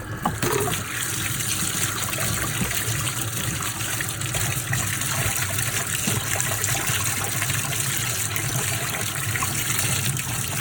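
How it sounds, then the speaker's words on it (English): Dyed fabric being washed under running water, a loud continuous hiss of flowing water with faint splashing from the material throughout, no talk. "let's wash it again"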